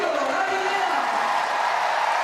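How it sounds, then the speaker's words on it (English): Arena crowd at a men's vault final of the 2022 World Artistic Gymnastics Championships roars in a loud, sustained cheer with whoops, a dense wash of noise throughout. "Huge cheer for Radivillov of Ukraine"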